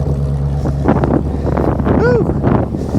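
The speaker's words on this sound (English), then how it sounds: "Man, it's cold and windy out here." Cold wind blows outdoors, buffeting the microphone with a steady low rumble, and a brief high chirp rises near the end.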